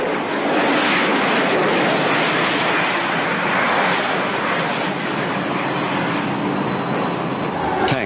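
Military aircraft flying round-the-clock supply runs, a broad steady engine roar that fills the whole clip at constant loudness, blended with rushing wind-like noise.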